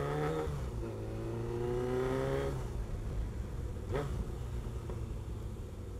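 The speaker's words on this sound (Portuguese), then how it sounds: "essa moto aqui, só o cano é bom demais" An RF900R motorcycle engine revs up through its exhaust in a rising whine, holds, then drops back, with a quick second blip of throttle moments later, loud and close.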